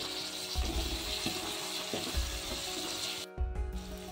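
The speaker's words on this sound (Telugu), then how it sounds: "నెక్స్ట్ ఇందులోకి మనం ముందుగా కట్ చేసి పెట్టుకున్న టమాటోని వేసుకోవాలి. టమాటోని కాస్త మగ్గనివ్వాలండి." Chopped tomatoes frying in oil in a pan for a spiny gourd curry: a steady, loud sizzle with periodic soft knocks and scrapes of a stirring spoon, and no talk.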